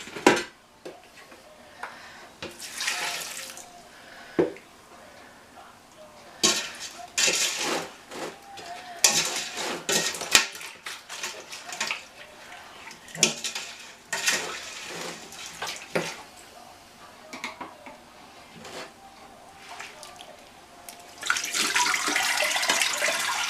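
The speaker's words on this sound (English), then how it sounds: "Now that's a total of 2 litres that I used to rinse the sugar off." Water runs and splashes in bursts while sugar is rinsed off for rhubarb wine making, intermittent pouring surges with quieter gaps between, close by.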